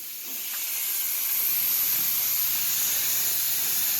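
A spray gun applying 2K high build primer over filler gives a steady, hissing spray at moderate level, building slightly at the start and then holding an even airy rush.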